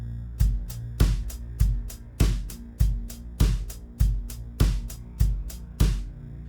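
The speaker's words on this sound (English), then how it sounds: "This is a very standard functional drum pattern." Programmed drum beat with punchy kick and backbeat hits over steady ticking hi-hats, the accented hats alternating with softer ones in an even, looping groove, clean and fairly quiet with no voice.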